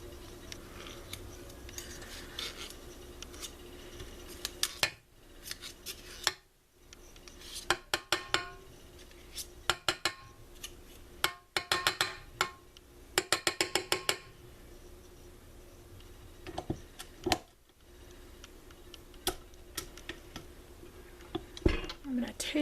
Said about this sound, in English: We're just going to mash it out of this beater to make sure that there's no lumps of butter in there.